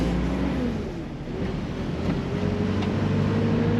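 A Nissan Pathfinder 4x4 with a swapped KA24 engine and a manual gearbox drives along. Its steady, loud engine drone is mixed with heavy wind rush throughout, and no one speaks.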